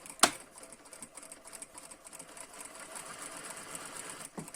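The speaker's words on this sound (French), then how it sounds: "on va faire une couture d'assemblage" A sewing machine runs a steady burst of stitching along an assembly seam joining the gathered and flat parts of a ruffled skirt, a quiet, even mechanical whir with a sharp click at the start and near the end.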